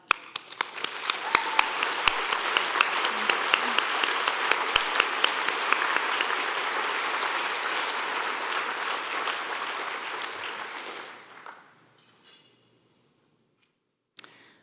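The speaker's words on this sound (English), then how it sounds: "Sonny, do you mind standing up so we can give you a round of applause?" An audience at a charity gala gives a sustained round of applause for about eleven seconds, dense clapping in a large room with a few sharper claps near the front, then tapering off to quiet.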